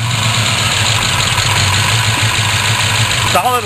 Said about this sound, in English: Solid lifter, 327, 375 horsepower. Rumble. You hear that baby rumble?